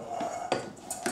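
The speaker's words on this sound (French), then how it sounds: "tu vas me mettre une bonne cuillère de mascarpone dans le saladier" A generous spoonful of mascarpone is scooped and tapped into a salad bowl while making a strawberry and whipped cream millefeuille, giving a few soft clinks and scrapes of spoon against bowl, close and fairly quiet.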